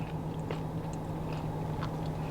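Biting into a crispy fried onion ring at a Waikiki burger stand gives a few sharp crunches followed by chewing, close to the mic, with a steady background hum and no talk.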